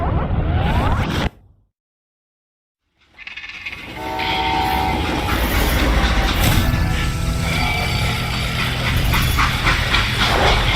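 A moving freight train in the Call of Juarez: Gunslinger video game, loud rumbling and clattering rail noise that drops to silence briefly, then returns as a heavy, continuous roar with squeals.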